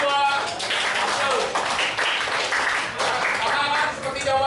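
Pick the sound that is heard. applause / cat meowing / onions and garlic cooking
applause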